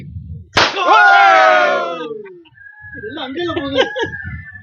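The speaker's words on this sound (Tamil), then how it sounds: "மயில் சவுண்ட்" A peacock gives a loud, wailing call that sweeps downward and fades, followed by fainter warbling calls and background noise, at a waterfall resort in Courtallam.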